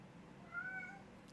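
A single drawn-out meow from Coco, a house cat, rises and holds briefly near the middle, clear but not loud, over a faint low hum with no voices.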